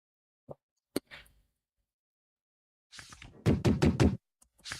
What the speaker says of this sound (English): A loud knock suddenly startled me.